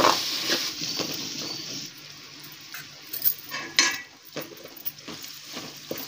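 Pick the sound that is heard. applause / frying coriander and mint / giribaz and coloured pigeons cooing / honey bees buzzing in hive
frying coriander and mint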